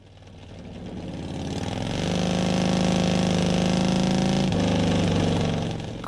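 A built 131ci Harley Twin Cam V-twin with a slipping clutch runs steadily, rising from a low idle into a loud, sustained mid-rev drone with strong rumbling harmonics before easing off briefly near the end.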